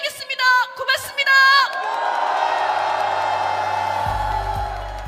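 At a political rally in Korea, a large crowd cheers and shouts with whoops that swell into sustained loud roaring applause, while a voice speaks over the start.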